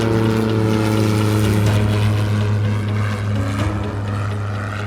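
Propeller plane on its takeoff run at Fort Wayne, a loud, steady engine drone with a strong low hum, holding constant throughout and easing only slightly toward the end.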